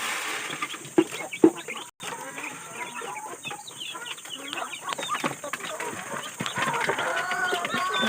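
Chickens cluck and chatter in a busy flock, steady and close, with occasional brief flapping and soft background noise throughout.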